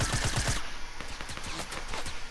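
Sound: gunfire shooting in a video game

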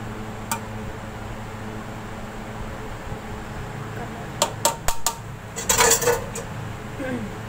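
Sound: spreading half-cooked rice in a pot

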